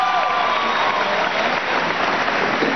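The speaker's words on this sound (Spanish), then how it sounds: "Un aplauso para México." Dense, sustained applause from a large crowd at a graduation ceremony for thousands of doctors in Caracas's Poliedro arena, loud and continuous throughout with a faint voice over it.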